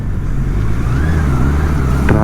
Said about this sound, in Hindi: ओहो, ट्रैफिक आ चुकी है